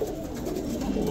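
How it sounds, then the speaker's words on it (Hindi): Amroha fighting pigeons coo steadily inside a net, a low continuous burbling murmur from several birds close by, with no voices over it. "अमरोहा का कबूतर है लड़ता भिड़ता"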